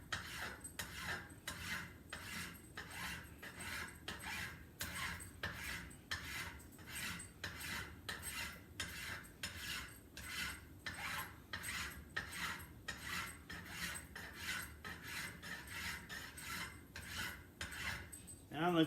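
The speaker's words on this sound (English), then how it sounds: "I don't know if you can hear as I'm filing, I'm picking up the file between every pass." A metal file rasps across a steel hammer head while it is shaped to profile, with steady repeated strokes that are fairly close, each pass followed by a short gap as the file is lifted, and no one talking.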